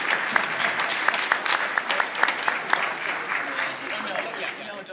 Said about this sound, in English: Can we clap for you too?